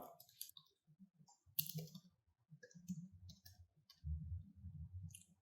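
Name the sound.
typing login and password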